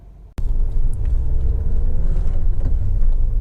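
A Honda Civic 1.8 i-VTEC EX five-door running on the road, a loud, steady low engine and road rumble that starts abruptly after a brief quiet moment and continues without a break.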